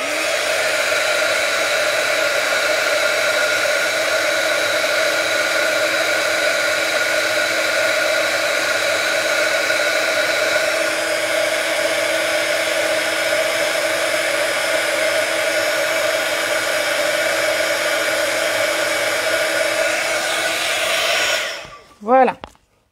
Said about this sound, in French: je vais chauffer un petit peu pour sécher ici mon tampon.